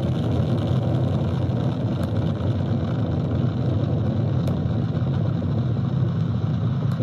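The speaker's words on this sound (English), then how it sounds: "Four RS-25 engines on the core stage and two solid rocket boosters now propelling the vehicle at 128 miles per hour" Artemis 1 rocket lifting off, its four RS-25 core-stage engines and two solid rocket boosters giving a steady, dense, low roaring rumble that holds without break throughout, heard at a distance.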